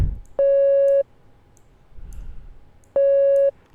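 Two identical steady sine-wave synthesizer tones, each held about half a second, separated by a quiet gap with faint background noise.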